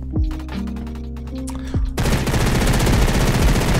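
An MP7 fires in the Roblox shooter Energy Assault: a sequence of separate loud shots with ringing tails, then a dense, sustained automatic burst filling the second half, near and loud with no speech.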